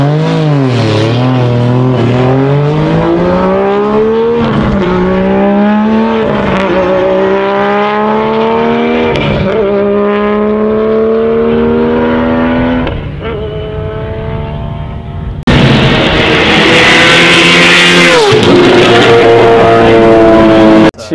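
A 1000hp BMW E92 M3 running a 10k-rpm RB26 engine as a drift car screams loudly down a straight, pitch climbing in repeated upshifts, then a harsher, louder surge of throttle near the end, with no talking.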